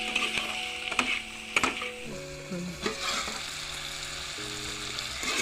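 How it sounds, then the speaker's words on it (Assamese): Chicken meat cooking in a pan with a spoon stirring through it, steady sizzle and frying hiss broken by scraping and knocking strokes, with a sustained tonal hum alongside. "মই লৰাই চাইছোঁ মাংসটো কিমান সিজিছে।"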